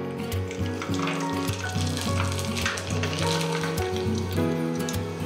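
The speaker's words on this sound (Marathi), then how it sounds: "आता हे साबुदाण्याचे पापड छान सुकवून घेतलेले आहेत उन्हामध्ये आणि तेलही इथे गरम केलेलं आहे. तेलामध्ये हे पापड घालूयात." Sun-dried sago papads frying in hot oil, a steady close sizzle and bubbling that runs without a break, with no talking.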